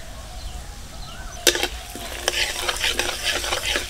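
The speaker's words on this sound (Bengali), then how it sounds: "কড়াইটা উনানে বসিয়ে ওর মধ্যে আমি ফোড়নে দিচ্ছি কালো সর্ষে, একটু ডাল, বিউলির ডাল" Black mustard seeds, a little split black gram dal and asafoetida sizzle in hot oil in a kadai, a steady close hiss broken by sharp crackling spits and popping bursts.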